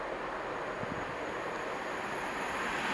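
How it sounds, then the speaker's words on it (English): A Class 390 train pulls away from Tamworth station toward Manchester Piccadilly, heard as a faint, steady rumble with a broad airy wash and no distinct wheel or horn sounds. "390 heading off to Manchester Piccadilly."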